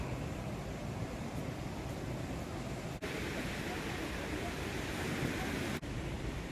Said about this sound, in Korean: 울돌목에서 지금 파도 소리 들리시죠?